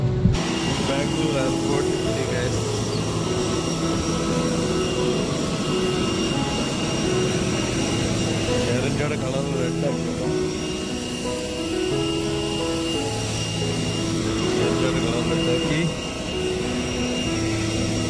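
A steady, loud jet engine roar rises from a Vistara plane heading for takeoff at an airport, with people talking close by throughout.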